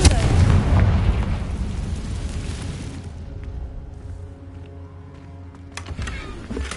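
A Confringo fire spell explodes in Hogwarts Legacy: a loud, low blast bursts out and rumbles away over a few seconds, followed by a quieter ringing tail and a second sharp burst near the end.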